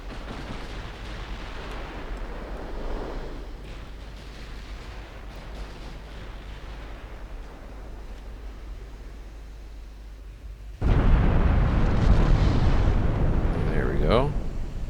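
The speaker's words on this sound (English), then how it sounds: "Challenger is challenged by some 15-inch guns." Heavy 15-inch naval guns fire in the Ultimate Admiral Dreadnoughts naval warfare game, during an Italy 1933 campaign at war with Britain. A steady low rumble gives way to a loud, sudden broadband blast that rolls on and echoes to the end.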